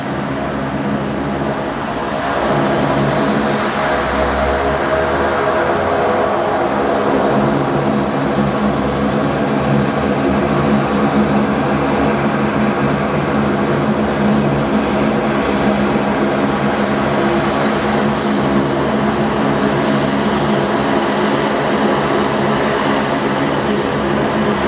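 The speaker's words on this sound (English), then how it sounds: "I'll watch this Rex Saab for as long as we can until Qatar comes in." A Rex Saab turboprop airliner at night at Brisbane Airport, giving a steady, loud propeller drone and engine roar that holds for the whole stretch with no break.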